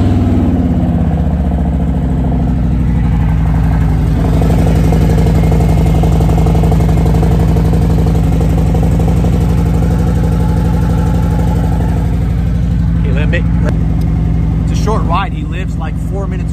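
A Harley motorcycle engine runs at a loud, close idle after a cold start following three weeks of sitting, with a steady throbbing drone throughout and a few sharp clicks and rattles near the end.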